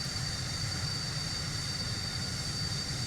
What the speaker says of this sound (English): Throttle position, engine 1 start.